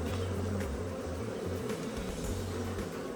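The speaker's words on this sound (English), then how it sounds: "Now we got some bees attending to them." Honeybees buzzing inside a beehive where queens are emerging, a steady, close, continuous drone with wavering low hum throughout.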